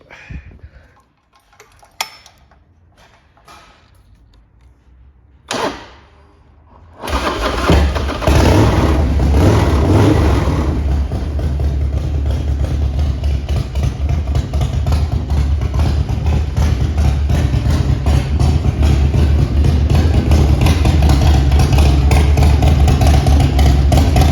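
A 2001 Harley-Davidson FXD Dyna Super Glide with a 1450cc engine and no drive belt fitted gives a few clicks and a cranking attempt, then fires up loud and close and settles into a steady, lumpy idle.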